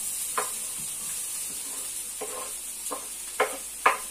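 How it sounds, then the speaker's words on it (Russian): Onion and garlic frying in a pan give a soft, steady sizzle, with a few brief stirring scrapes rising near the end. "И теперь мы будем обжаривать лук с чесноком."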